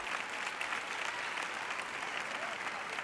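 An audience at a Christian gathering applauds and cheers in a dense, steady wash of clapping that holds at an even loudness throughout.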